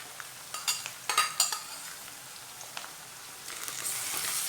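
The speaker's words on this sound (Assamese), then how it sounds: "পিয়াজখিনি এতিয়া মই ৰঙচুৱা হোৱালৈকে ফ্ৰাই কৰি থাকিম।" Onions frying in a pan for a chicken curry: a faint, soft sizzle broken by a few light clinks and scrapes of a utensil stirring early on, with a brighter hiss swelling near the end.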